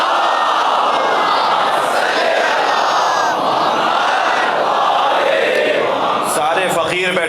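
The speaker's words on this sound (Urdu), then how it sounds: "ایک اور صلوات نبی کی ذات میں۔" Many voices chant in unison, loud and continuous, a dense crowd roar that breaks into scattered shouts near the end.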